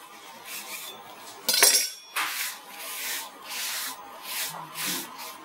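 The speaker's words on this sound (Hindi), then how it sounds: "तो इसको भी मैं ट्रे को निकाल लेती हूँ" A metal baking tray holding sheermal bread comes out of an oven in a home kitchen. One sharp metallic clatter is followed by repeated scraping and rubbing strokes of metal.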